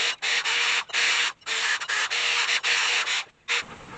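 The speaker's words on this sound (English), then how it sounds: "First thing I want to do is clean this rust off." Rust being cleaned off two 8-inch steel spacer pieces for a truck bumper, with loud, close, harsh scraping bursts in quick irregular strokes separated by brief pauses.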